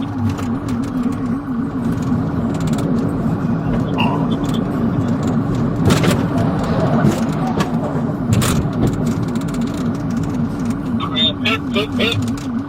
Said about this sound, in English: The pursuit intensified as the suspect led officers through streets at high speed, ultimately ending on Lakewood Avenue.